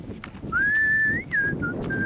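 A man whistles as he walks along the coast: a sustained clear note that slides upward, then several shorter tones, close and loud over soft outdoor rumble.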